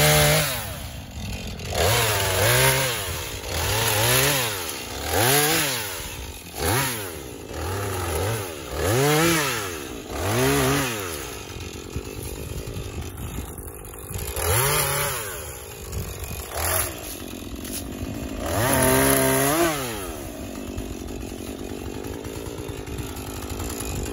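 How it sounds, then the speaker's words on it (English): Husqvarna 440e chainsaw clearing small trees, its engine repeatedly revving up into cuts and dropping back to idle in a regular rising-and-falling rhythm, close and loud for over twenty seconds. "We got a couple of Husqvarna 440Es that we just love for this light kind of work."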